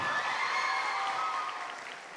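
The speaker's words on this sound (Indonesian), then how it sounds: "saya minta tepuk tangannya sekali lagi buat SMK 1 Lumajang" A large school audience at an SMK 1 Lumajang event applauds steadily as a dense wash of clapping, fading slightly toward the end.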